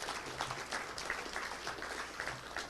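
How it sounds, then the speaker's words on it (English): A club luncheon audience at the Little Rock Touchdown Club gives a round of applause, dense overlapping clapping in a room, moderately faint and steady for a few seconds. "I want to give a round of applause for Wes Sutton for the job he does"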